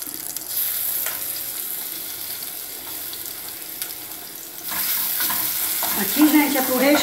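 Garlic sizzles and fries in hot pork lard with a steady hiss, and the crackle grows louder and busier in the last few seconds as the pan heats up. A few light clinks are heard and nobody speaks.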